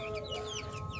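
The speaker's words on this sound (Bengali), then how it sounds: "এগুলো হলো টাইগার মুরগি" Tiger-breed chickens clucking softly and steadily at close range, their calls overlapping with no voices among them.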